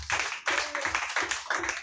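A church congregation claps together to acclaim the Lord at a Sunday service, a short burst of dense, rhythmic clapping with regular pulses, close and fairly loud with no talk over it.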